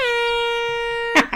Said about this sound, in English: Uh-oh. It's a foghorn. It's one of our foghorns.